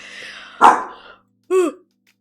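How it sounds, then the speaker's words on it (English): A dog lets out two sharp barks, a rougher one followed by a clearer, higher one about a second later, close by with a quiet room behind. "It said, what is the dog doing? And then she barked."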